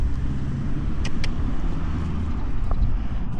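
A van rumbles past on a village road with a steady low engine drone, fairly close and loud throughout, with a couple of brief sharp clicks on top.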